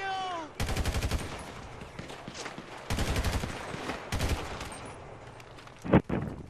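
Loud video-game gunfire in GTA V Online during the Daemon Run mission: rapid automatic bursts come in three long volleys, and a couple of sharp single shots near the end stand out, all close and without talk.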